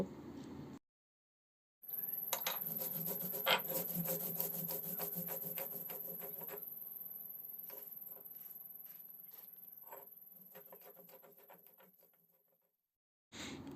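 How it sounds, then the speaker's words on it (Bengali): Spice paste ground with a little water on a stone grinding slab, a steady rhythmic rubbing scrape of stone on stone that repeats close up for about ten seconds and slowly fades, with no talk. "শিলে সামান্য জল দিয়ে খুব ভালোভাবে বেটে নেব এবং একটি পেস্ট তৈরি করে নেব"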